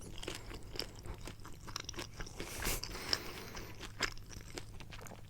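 Close, crisp crunching and chewing of a crusty pepperoni pizza crust, with irregular crackles and bites over several seconds.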